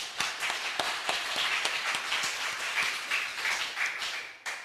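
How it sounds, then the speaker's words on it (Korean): A church congregation breaks into applause, with many hands clapping in dense, steady waves that fill the room for several seconds before thinning out, with no talking over it. "우리 박수 한번 쳐줘"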